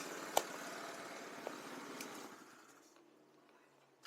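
A cheap homemade buggy's small engine runs at a steady idle, close and fairly quiet, then fades near the end with a couple of sharp knocks.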